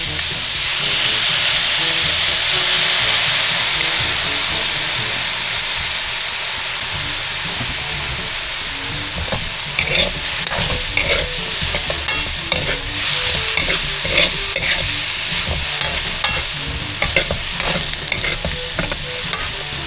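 Pancit noodles fry in a pan with a loud, steady sizzle as soy sauce is added, followed by bursts of stirring and scraping that come in quick irregular clatters.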